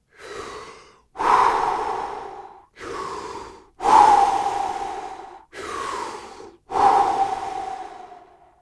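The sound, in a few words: deep strong breaths in and out through the mouth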